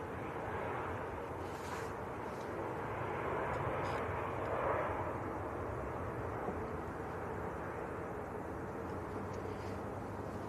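A Ryanair jet from Brussels gives a faint, distant broadband rumble at Manchester Airport that swells gently around the middle before settling into a low, even wash.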